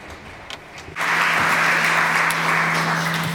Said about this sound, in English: A big round of applause for Bernd Fritzges